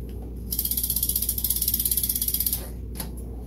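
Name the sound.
tightening a bicycle part with a ratchet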